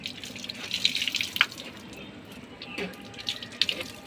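Water runs from a tap as hands and face are washed on a rooftop, splashing in uneven bursts with sharp drips and clatters, fairly close, with a faint voice in the background.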